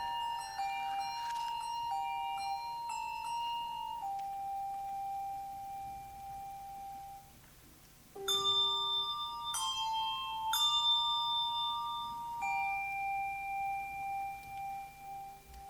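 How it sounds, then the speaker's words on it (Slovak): Bells ring at an advent concert by a church choir, clear sustained tones struck in overlapping sequence, a pause near the middle, then a brighter cluster of chimes that ring on and fade. "Počúvajte zvony."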